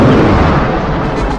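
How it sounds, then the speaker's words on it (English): A TIE fighter blows up in a Star Wars space scene, one loud, dense explosion boom that fills the whole moment and then slowly dies away. "It's a good space explosion right"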